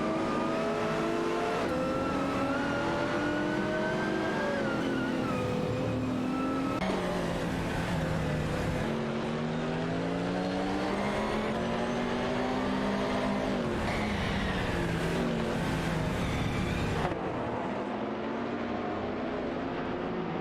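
Race cars in a video game, engines revving and whining continuously with rising and falling pitch as gears shift, several cars layered together at steady loudness.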